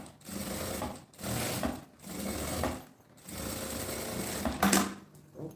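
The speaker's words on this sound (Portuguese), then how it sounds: "costurei tudo de um lado" Sewing machine stitching fabric for a child's school bag, running in four rhythmic buzzing bursts separated by short pauses, close and fairly quiet.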